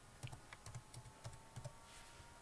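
Fingers type a password on a computer keyboard, a quiet run of soft, irregular key clicks, about a dozen taps in close succession with short pauses, no voices.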